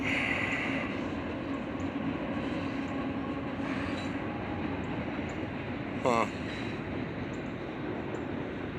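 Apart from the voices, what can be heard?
train passing by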